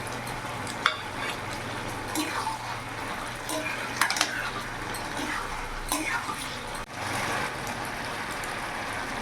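Five-spice tempering poured over pumpkin cooking on a full gas flame gives a steady sizzle and frying hiss, with occasional stirring clinks, moderately loud throughout.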